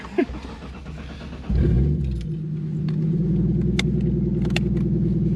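A 600 hp Toyota Supra MK3 starts up and settles into a deep, loud idle rumble heard from inside the car, with faint clicks and rattles over the steady engine drone.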